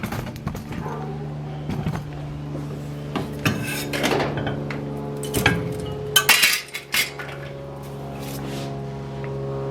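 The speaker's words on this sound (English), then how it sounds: "now we just pull out this strut" Front strut assembly being worked free and pulled out of a VW New Beetle, giving loud metallic clanks, scrapes and rattles in bursts, sharpest near the middle, over a steady low hum.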